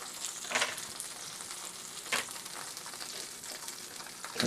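Sausages sizzle and fry in a pan of olive oil and butter, a steady close crackle with a few louder spattering bursts and no one talking.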